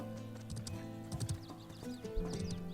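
A horse in the video game Ashes of Creation, heard as a few soft hoof clip-clops and brief snorting or whinny-like calls over a steady background game ambience, no talking.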